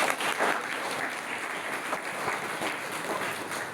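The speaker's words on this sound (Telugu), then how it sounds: "అందరూ చప్పట్లు కొట్టారు." Audience applause at a Sunday church service, a dense, steady wash of many hands clapping together, close and sustained throughout without a break.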